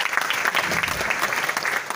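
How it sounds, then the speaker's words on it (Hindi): Loud, steady applause from a live show audience, dense clapping filling the whole stretch without pause. "जरा जोरदार तालियां हो जाए"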